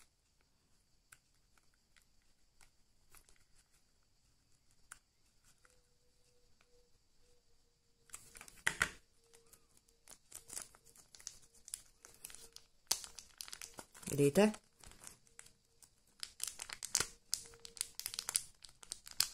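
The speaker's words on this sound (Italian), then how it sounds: "un sacchetto della plastica, un sacchetto di qualcosa, e in questo modo lo chiudiamo" A plastic bag crinkles and rustles up close while being resealed with a small bag sealer, irregular bursts of crackling after a quiet stretch, with a brief word spoken.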